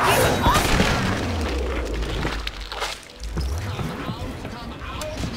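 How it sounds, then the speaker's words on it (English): Grenades explode in the video game Killing Floor 2, heavy low booms rolling one after another with rumbling tails over busy game sound. "Perhaps some grenades."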